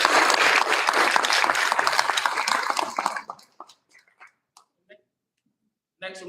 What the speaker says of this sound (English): So another round of applause for Smalley School Board Meeting.